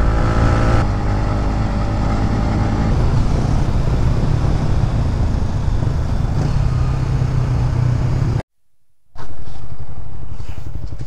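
A Yamaha MT-15 motorcycle engine drones loud and steady while riding, cutting out abruptly near the end before returning.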